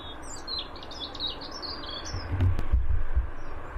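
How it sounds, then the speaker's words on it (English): Birds sing in high, repeated chirping phrases near Birmingham Airport, fairly faint against a steady outdoor hum that swells into a low rumble later on. "How come you can always hear the birds but never see them?"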